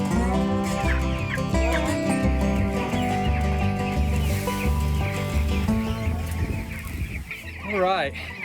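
Three-week-old broiler chickens cluck and chirp continuously as they are unloaded into a mobile coop, a dense flock chorus heard close with steady loudness throughout.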